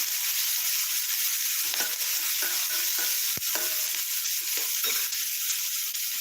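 Green chillies frying in oil for a dry fish gravy, with a steady close sizzle and repeated scraping clinks of a spoon stirring against the pan.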